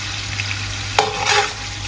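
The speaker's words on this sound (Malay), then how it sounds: "kita goreng daging" Meat frying and being stirred in a pan for a Malay sambal godok, a steady sizzle with a short scraping stir burst partway through, close and moderately loud, no talking.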